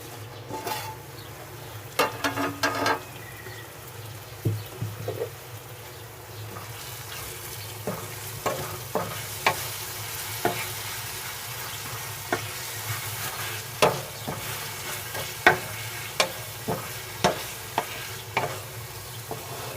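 Tomatoes cook in a pan over medium-low heat with a soft sizzle beneath, while a spoon scrapes and knocks against the pan in irregular, close strokes.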